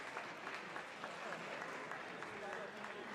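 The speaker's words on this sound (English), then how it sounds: "Give him another round of applause." An audience at the Michigan Ice Fest applauds, a dense, even wash of clapping from a moderately sized crowd that lasts the whole moment at a steady level.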